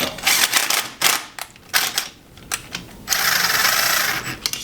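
A ratchet with an extension runs down the starter bolts on a Honda GX630 engine, giving close, quick metallic clicking bursts separated by short pauses, then a steadier stretch of clicking.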